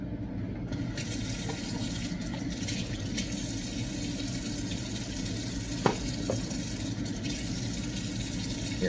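Tap water runs steadily into a sink while hands are washed, a continuous close splashing hiss lasting several seconds with a couple of faint knocks.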